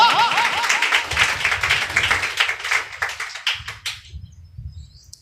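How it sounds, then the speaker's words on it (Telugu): A congregation claps during a Sunday church service, with scattered claps following a brief voice at the start and then thinning out and fading after a few seconds. "చప్పట్లు కొడతారా?"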